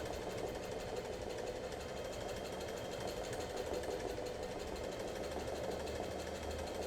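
A sewing machine running free motion stitching for an Art Nouveau flower embroidery hums in a steady continuous drone, close and even, with no breaks for the full stretch.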